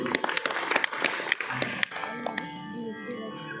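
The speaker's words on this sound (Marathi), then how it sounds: "जोरदार टाळ्या होतात" Applause rises at a devotional bhajan gathering, with a burst of clapping that fades after about two seconds and gives way to voices and lingering music tones.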